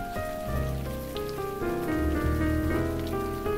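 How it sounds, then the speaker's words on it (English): Steady, dense rain pours down continuously in the video game The Blackwell Epiphany, with a sustained tonal drone of background music running underneath. "It's raining buckets."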